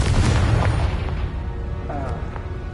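Confringo, the explosion spell in Hogwarts Legacy, going off in the game as a loud booming blast with a heavy low rumble that fades over a couple of seconds, followed by smaller pops and faint game sounds.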